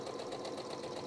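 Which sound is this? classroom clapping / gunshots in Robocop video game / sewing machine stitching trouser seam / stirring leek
sewing machine stitching trouser seam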